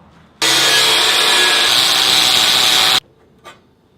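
Saw or abrasive cutter bites through a 2-inch square of 12 gauge steel for an axle end cap on a three-wheeled bicycle build, a loud, steady, harsh grinding rasp lasting about two and a half seconds before stopping abruptly.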